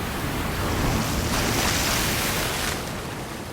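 Storm-tossed sea waves surge and crash around a sailing ship, a continuous loud roar of rough surf mixed with wind buffeting, swelling in the middle and easing slightly toward the end.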